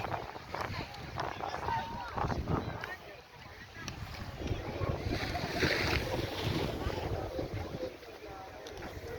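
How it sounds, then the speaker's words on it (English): Waves and wind at Browns Beach in Carlisle Bay, Barbados, a continuous rushing surf wash with gusty wind buffeting, moderately loud, with a person talking over it. "Browns Beach. Part of the Carlisle Bay area."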